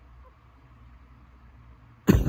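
A person coughs once in a sudden, loud burst near the end, close by, after a stretch of quiet room noise.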